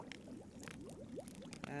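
Bubbling water in a pot from the video game Book of Unwritten Tales gives off a quick run of small rising gloops and gurgles, steady and fairly close, over a brief moment.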